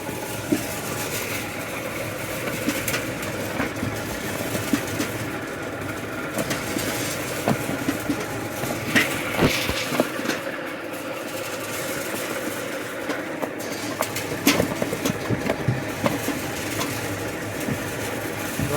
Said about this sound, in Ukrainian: Воно крутиться в цю сторону і картопля більш туди падає.